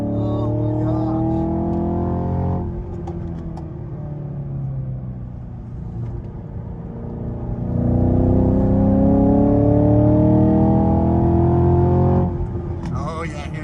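A Chevy Camaro SS 1LE driven hard around a track lap, its engine droning and rising through revs in long sweeps, loud and close from inside, with voices talking over it.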